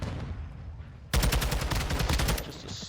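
A sudden loud burst of rapid automatic gunfire in a collegiate esports Call of Duty match, erupting after a quiet second and rattling steadily for about a second and a half before easing off.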